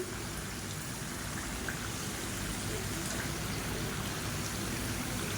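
Murukku frying in hot oil, a constant dense bubbling sizzle close by at an even level throughout, with no talk.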